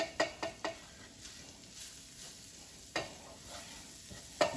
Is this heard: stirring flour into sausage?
yes